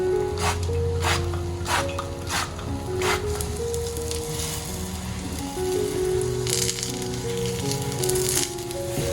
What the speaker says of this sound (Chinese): 全程使用小火慢慢煎